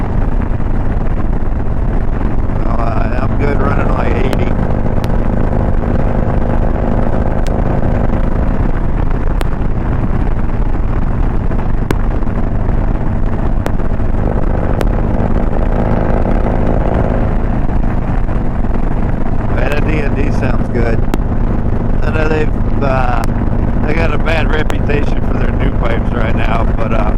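A Road Glide motorcycle cruising on the highway at about 75 to 80 mph gives a steady, loud engine drone buffeted by heavy wind rush, with someone talking over it throughout.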